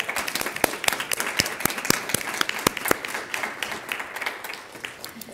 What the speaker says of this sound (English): we could give you a round of applause